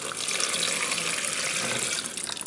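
Water pours steadily into a peroxide mixture for cleaning and whitening shark jaws, a continuous close splashing rush that stays loud and even throughout with no talking.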